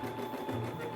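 A printer runs a sublimation design print with a steady mechanical whirring hum at moderate level, unbroken and without talk.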